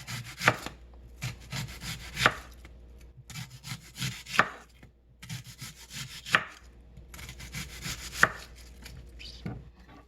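A knife rough-chops kale on a cutting board, sharp irregular thunks in bursts with a few louder strikes, close and fairly quiet, with faint rustling of leaves between cuts and no talk.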